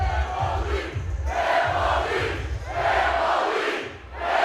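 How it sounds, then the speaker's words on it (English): A wrestling crowd at a Juggalo Championship Wrestling event chants in loud, rhythmic waves, swelling and falling in repeated surges that fill the arena. "the chants you hear from the crowd"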